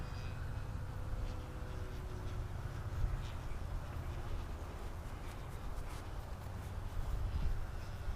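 A buzzing electric motor drones steadily at a distance from an FMS P-51 1400mm RC model plane flying on a windy day, faint and insect-like under wind rumble, with brief hints of voices.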